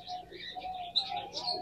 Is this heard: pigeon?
yes